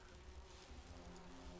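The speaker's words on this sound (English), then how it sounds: "Oh, they're bees!" A low, continuous buzzing of bees in Grim Fandango Remastered, a soft insect drone under a steady background tone, heard alone without speech.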